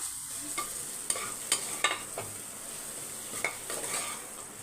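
Potatoes fry with garam masala in a pan as a spoon stirs them, a soft continuous sizzle broken by several sharp scraping clinks of the utensil against the metal, close and fairly quiet.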